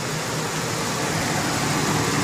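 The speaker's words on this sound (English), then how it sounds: "the engine's running right now with the kit going" A Ford F-150 engine idles with an HHO gas kit and 21-plate fuel cell running, a steady, even, close rumble with broad noise and no change or talk throughout.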